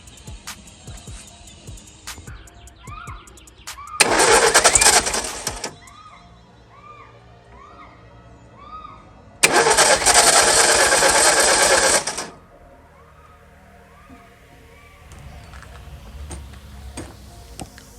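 An old Ford Mustang engine that has sat for 30 years cranks over on a freshly installed battery in two loud, steady bursts of several seconds each, separated by quieter moments with birdsong in the background.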